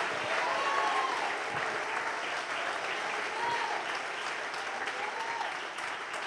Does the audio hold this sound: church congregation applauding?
yes